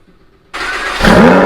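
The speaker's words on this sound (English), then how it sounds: "So let's get you guys a cold start" A Lamborghini Huracan cold-starts with its exhaust valves opened in sport mode: a half-second of near silence, then the engine catches and settles into a loud steady roar that swells stronger about a second in, with no voices.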